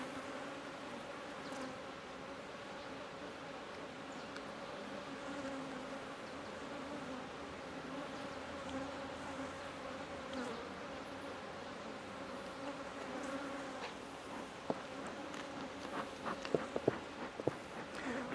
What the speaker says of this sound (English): There's quite a few bees on me now.